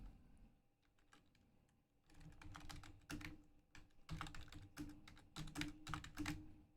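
Typing on a computer keyboard, sparse soft clicks at first, then quicker bursts of close, crisp keystrokes in short runs, with no voices.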